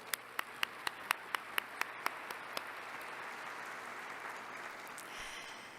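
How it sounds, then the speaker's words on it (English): A closing ceremony audience gives a brief round of applause: about ten loud, evenly spaced claps at the start, then they thin out into a soft, steady hall murmur. "another big round of applause"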